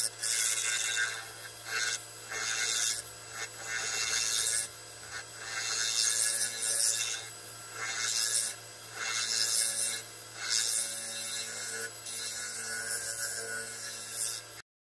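A lathe tool takes a finishing cut on a green wood bowl, making a rough, rushing scrape that comes in repeated surges of a second or two with brief pauses between passes, close and fairly loud.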